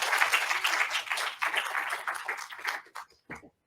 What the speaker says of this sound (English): there was a loud applause